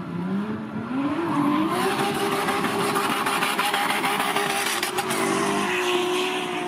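Quarter-mile drag racing cars of over a thousand horsepower at Motopark Łęż. Engines roar loudly and continuously, with a rising revving pitch early on, as the cars accelerate hard alongside a broad, rushing noise.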